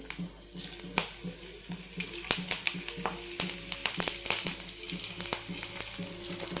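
Cabbage pakoda batter dropped into hot oil in a kadai: a steady, close sizzling and bubbling frying sound with scattered crackles and pops, plus occasional stirring and light clinks throughout.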